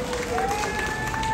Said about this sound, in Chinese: 我们新加坡朋友再来掌声感谢他好不好？